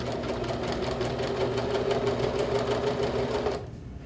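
Sewing machine stitching tan fabric, a steady fast mechanical whir with a rapid rhythmic needle clatter, close and continuous before stopping abruptly near the end.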